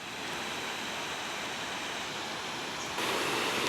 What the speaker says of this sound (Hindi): माया डैम, माया वाटरफॉल भी कहा जाता है इसे, देख सकते हैं आप।